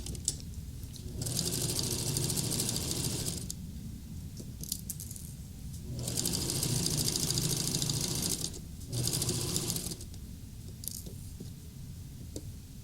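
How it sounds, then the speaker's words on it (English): A sewing machine stitches an apron waistband, running in three steady rattling bursts of a few seconds each with short pauses between them, close and fairly loud, with no talking. "I feed that through the center of my presser foot all the way across."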